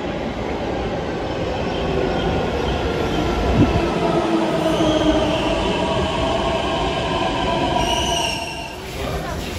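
A Delhi Metro train runs at an underground platform with a loud, steady rumble of wheels on rail and a brief high squeal partway through, then the roar eases slightly toward the end.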